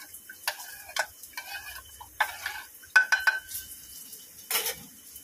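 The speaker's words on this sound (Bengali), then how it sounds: "ডালটা একটু ঘেঁটে নিতে হবে।" Dal being stirred in a pot in a home kitchen, a series of light scraping taps and clinks of the spoon against the pot that come in short bursts and pauses, close and fairly quiet, with no talk.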